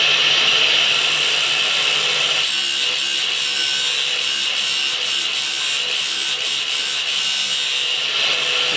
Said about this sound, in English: And the blue shark cut-off wheel is very effective.